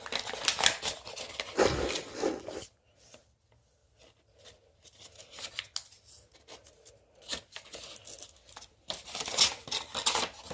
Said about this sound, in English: turn it back over, and then fold this edge so it meets this edge